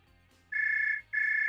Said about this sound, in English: Oh, there's the phone ringing right now.